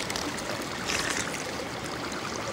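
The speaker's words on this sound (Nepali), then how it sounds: "यहाँ छ खोलो" A cold mountain stream on the Shey Phoksundo trek in Dolpa flows nearby, a steady close rush and gurgle of water that holds unchanged and is heard alone.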